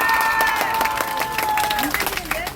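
A crowd at a rally outside a police station claps together in a short burst of applause, dense and close, with a few cheers mixed in.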